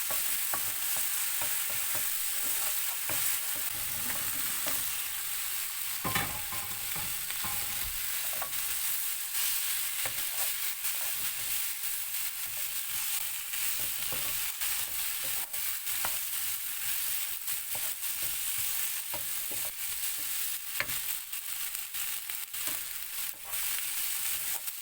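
Restaurant-style chilli chicken sizzles in a hot pan with chili paste while being stirred, giving a steady, loud frying hiss broken by scraping stir strokes, with no talking.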